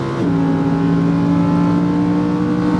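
A Lamborghini Huracán accelerates on a race track in Las Vegas, its engine holding a loud, steady, close-up drone with strong harmonics after a brief lift at the start.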